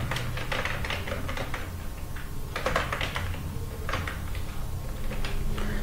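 Keys clatter in quick irregular bursts as HTML is typed on a computer keyboard, steady close clicking with short pauses between runs.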